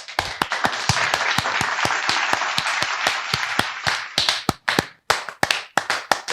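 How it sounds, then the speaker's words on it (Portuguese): Steady clapping and applause from a group at the opening of a podcast, dense at first and then thinning into scattered individual claps toward the end. "Aplausos!"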